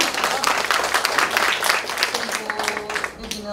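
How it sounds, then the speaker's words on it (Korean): Audience applause at a poetry book launch, honoring the author's family, with dense clapping that thins out toward the end as a few voices murmur underneath. "박수 주세요."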